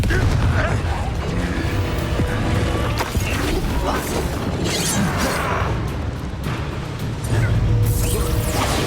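A Confringo fire spell blasting in Hogwarts Legacy on the Nintendo Switch, heard as repeated loud explosive booms and crashes over a continuous dense layer of combat noise.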